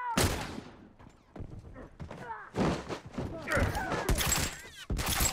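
Gunfire in The Last of Us, with a few sharp shots among shouting voices during a tense multiplayer fight, loud and close over a busy game background.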